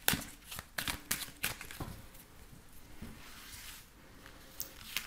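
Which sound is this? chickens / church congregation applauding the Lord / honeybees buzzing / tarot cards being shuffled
tarot cards being shuffled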